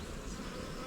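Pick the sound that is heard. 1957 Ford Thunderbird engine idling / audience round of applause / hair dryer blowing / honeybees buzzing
honeybees buzzing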